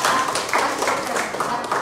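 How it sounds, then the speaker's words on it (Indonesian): A classroom group claps together in a short, lively burst of applause, with several quick bursts close by and no talking over it. "Tepuk tangan buat saya."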